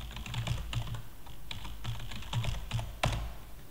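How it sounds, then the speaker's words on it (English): Steady clicking of keys on a computer keyboard as an email address and password are typed, a fairly quiet run of uneven taps with a few firmer strokes and no talking. "Enter the Google email address and then the password"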